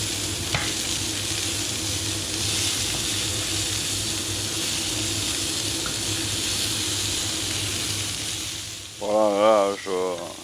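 Pigeon pieces fry in oil in a pan with a steady, close sizzle and occasional stirring, and a voice comes in briefly near the end.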